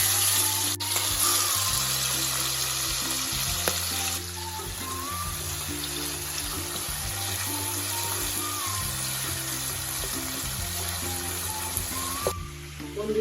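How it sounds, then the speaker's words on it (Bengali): Fish sizzle steadily in hot oil that was just used to fry potatoes, a continuous bubbling hiss with occasional clinks of a utensil against the pan. "এবার আমি ওই তেলের মধ্যেই মাছগুলিও ভেজে নেব।"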